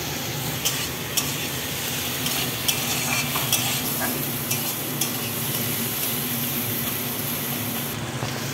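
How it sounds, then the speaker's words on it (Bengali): Capsicum, beans and tomato being stirred in a sizzling pan for masala oats, a constant frying hiss with scattered light scrapes and taps of the spoon, close and alone. "ভালো করে নেড়ে নিচ্ছি।"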